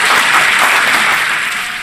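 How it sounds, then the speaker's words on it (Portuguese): Loud, dense applause from a crowd at a beer tasting talk, a continuous wash of clapping that fades slightly toward the end. "Palmas pro Marcelo."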